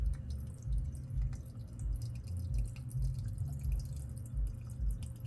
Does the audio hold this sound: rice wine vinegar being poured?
yes